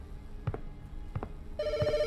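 A telephone rings out in a horror video game set at a gas station, a couple of separate ring bursts followed by a steady electronic trill, heard alone at moderate loudness.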